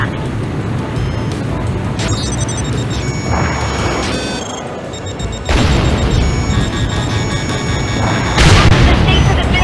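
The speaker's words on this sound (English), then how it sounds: "Incoming support fire! Stay out of the area of impact!" Heavy explosions of incoming support fire in the Ace Combat Joint Assault flight game, loud rumbling booms rolling continuously under a dense roar with sharper blasts near the middle and end, accompanied by music tones.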